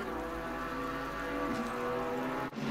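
Steady rain hiss in the Assetto Corsa Competizione racing game at Imola, a broad continuous wash with a low engine-like hum beneath, constant level and no voices.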